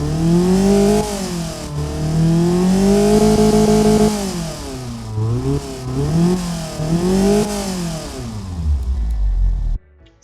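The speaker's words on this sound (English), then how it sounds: "So let's fire it up and let's hear the new exhaust system." A Ford Zetec SE inline-4 engine bored out as a tuner build runs through a new exhaust, revving up and down in repeated swells with a strong throaty drone, close and loud, then cutting off abruptly near the end.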